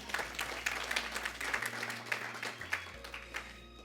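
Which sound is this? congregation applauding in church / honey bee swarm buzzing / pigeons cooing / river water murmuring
congregation applauding in church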